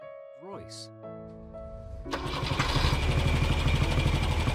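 A Rolls-Royce car engine running out of oil turns over and breaks into a loud, rough, rattling roar that holds steady to the end, after a brief voice-like tone at the start.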